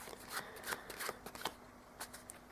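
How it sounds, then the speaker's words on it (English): A deck of playing cards is shuffled in quick bursts of crisp riffling and soft slaps, close and quiet, during a card magic routine. "So what I do to do the shuffle is I peel down 1 card so it's at the bottom and shuffle the rest of the cards"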